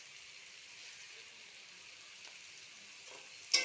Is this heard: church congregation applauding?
no